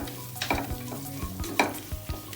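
Green chillies and garam masala being sautéed in a pressure cooker for chicken biryani: a steady sizzle with repeated scraping stirs of a spoon against the pot, close and moderately loud.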